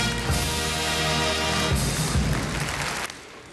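Audience applause fills a German carnival comedy show, a dense, steady clatter of many hands that runs loud for about three seconds before it begins to fade.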